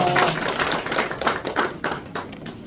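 A congregation at a Korean church service in the Americas claps to welcome a missionary, a dense burst of hand claps with a loosely rhythmic pulse that fades gradually over a few seconds.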